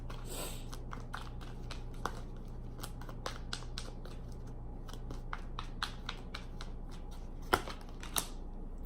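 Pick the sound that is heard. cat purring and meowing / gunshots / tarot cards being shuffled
tarot cards being shuffled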